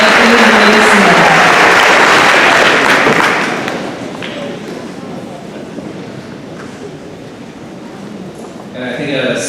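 Loud applause from a crowd at an 8th grade promotion ceremony, dense and sustained at first and then easing back to a lighter level, with voices carrying through the clapping.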